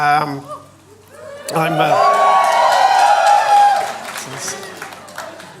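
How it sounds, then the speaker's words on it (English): A burst of cheering and clapping from the IADT group at an animation festival panel rises after a moment of talk, with whoops over the sustained noise for a couple of seconds before fading back under speech. "That's just the IADT people cheering"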